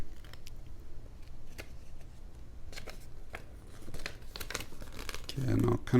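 Paper manual for a Ycbright YC8001 flat EDC flashlight being unpacked and handled, giving close crinkling, rustling and tearing-like paper sounds with sharp clicks, under a steady low background hum.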